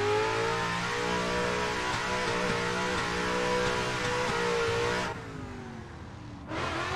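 A Ford Mustang RTR race car powers along the Lime Rock Park road course, its engine loud and droning as it pulls through the gears with stepped pitch changes, then briefly backs off before picking up again near the end.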